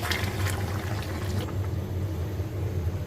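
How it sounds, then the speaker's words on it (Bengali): Heated water is poured into a pot of chicken curry made with a country laying hen, giving a steady, soft liquid rush that eases off midway and continues as a quieter, even wash. "পানিটা গরম করছি পানিটা এখন দিয়ে দেবো"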